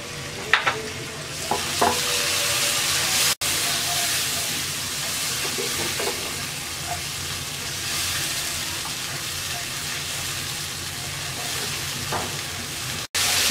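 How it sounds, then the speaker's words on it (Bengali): Ginger-garlic paste with chili, coriander and turmeric powders and a splash of water stir-fries in a pan, a steady close sizzle broken by occasional stirring scrapes. "মশলাটাকে কিছুক্ষণ কষিয়ে নেব"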